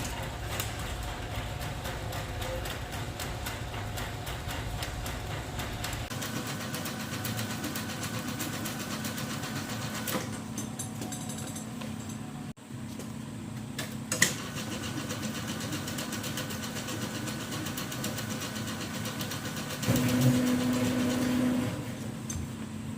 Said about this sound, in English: let's wind these coils.